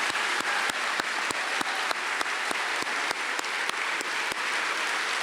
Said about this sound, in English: if we could have one big round of applause for all of our 20 years service